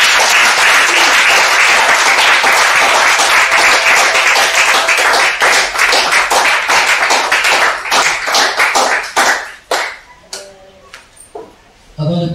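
A church congregation applauds the Lord at a Sunday service, dense sustained clapping filling the room before thinning into scattered claps and fading out near the end.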